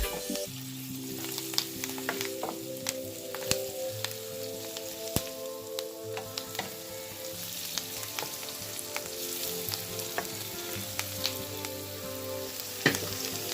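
Garlic and ginger sizzle steadily in a pan, a continuous close crackle dotted with sharp pops and small stirring clicks, no voices over it.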